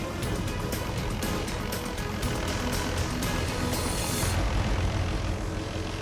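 A truck engine with a mounted crane running in the Australian outback, a steady, close droning hum that holds constant without pause.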